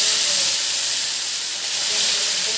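Blended curry paste for prawn curry hits hot oil and sizzles as a loud, steady, bright hiss that fills the clip from start to end, close up, with no talking.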